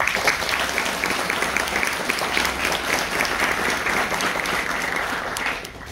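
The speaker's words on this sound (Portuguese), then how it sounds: "Queria levantar uma salva de palmas para o deputado." An audience at a talk on Brazilian tax reform gives a federal deputy a round of applause, sustained dense clapping from a full room that fades slightly at the end.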